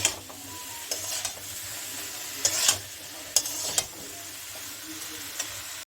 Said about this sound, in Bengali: এইগুলো সঙ্গে একটু আমি এগুলোকে ভেজে নেব